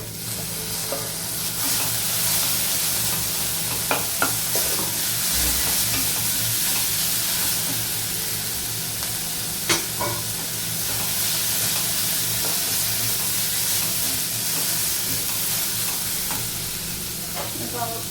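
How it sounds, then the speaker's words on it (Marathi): Finely chopped tomato frying with browned onion, garlic and fenugreek in a pan, a steady close sizzle with soft spatula scrapes and occasional sharp crackles throughout, no voices. "त्यामध्ये आपण आता बारीक चिरलेला टोमॅटो टाकून घेऊया."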